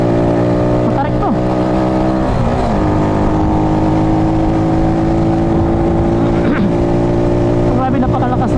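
A powerful vehicle engine drones loudly and steadily on a banked road through a residential area, with higher revving sweeps as it passes, while a rider's motorcycle runs close by and speech is heard.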